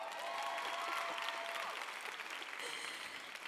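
A convention audience at a hairstyling congress claps through the whole short stretch, a dense, even wash of many hands with faint whoops and cheers mixed in.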